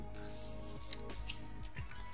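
Scissors cut through two sheets of paper held together at a fold while a scrapbooking card is made, producing quiet, close snips over a steady low hum.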